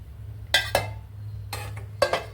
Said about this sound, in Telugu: ఒక 5 మినిట్స్ మూత పెడదామండి